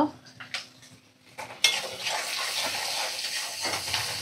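Spices, salt and a splash of white oil are stirred in a cooking pan, a few light clinks of utensil on metal followed by a steady, close sizzling and scraping that continues to the end.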